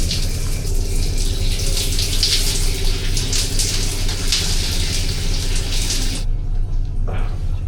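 Shower water runs steadily aboard a cargo ship on the Amazon River, a dense continuous spray close to the microphone that cuts off abruptly near the end, leaving a brief faint trickle.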